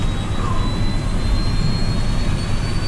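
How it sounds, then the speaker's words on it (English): TACA Flight 110 airliner's second jet engine spooling up: a steady, loud, roaring rush with a thin whine that slowly climbs in pitch, without pause. "taking the steps to fire up the second engine"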